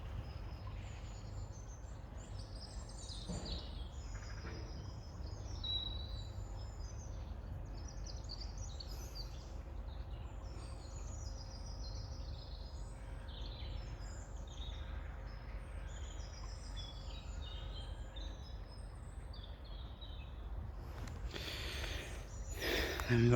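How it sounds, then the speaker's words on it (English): Birdsong chirps and twitters scattered through the clip near a wood, fairly faint against a steady low outdoor rumble, with no talking. "you'll hear the birds"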